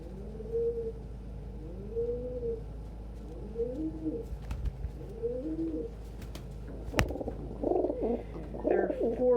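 Several pet birds give soft, repeated rounded coos close by, then a sharp thump and a brief flurry of louder calls and chatter near the end.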